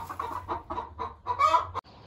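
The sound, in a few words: chickens clucking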